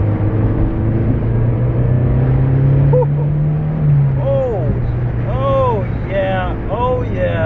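A Mazdaspeed3 with new motor mounts pulling hard in third gear, a steady loud engine drone rising in pitch, heard from inside the car, with faint squeaky tones near the end.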